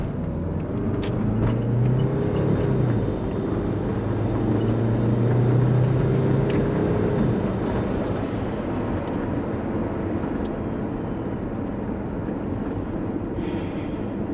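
A twin turbo Subaru Forester pulls hard in first gear, its engine droning loud and steady from inside the cabin with a rising whoosh of boost and no talk.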